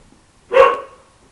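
A pet dog indoors lets out a single loud, close bark, sharp at the start and fading quickly.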